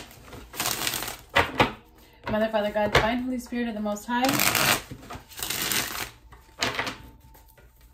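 Tarot cards are shuffled in quick riffling bursts, with brisk crisp flutters and taps coming and going while someone speaks a prayer.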